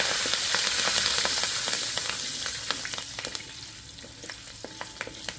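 Cumin seeds, crushed pepper and curry leaves sizzle in hot oil for a fish curry, a steady frying hiss punctuated by sharp crackles and spatters that thin out and fade toward the end.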